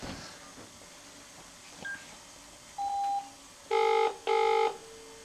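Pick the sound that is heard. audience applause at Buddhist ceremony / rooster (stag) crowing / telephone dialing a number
telephone dialing a number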